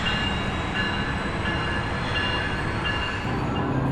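A train pulls out of Anaheim station with a continuous heavy rumble and rattle of wagons on rails, steady and fairly distant, with faint tonal squeals on top.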